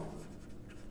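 Close, continuous scratching of a pen writing by hand on paper, alone and steady through a brief moment.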